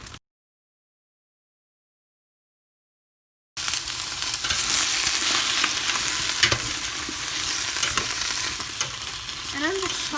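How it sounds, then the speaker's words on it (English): Vegetable scraps and garlic get tossed in hot oil for stock. After a stretch of silence, a steady sizzle and frying crackle starts, with stirring scrapes over it, close and fairly loud. "And I'm just tossing them to kind of coat them in oil."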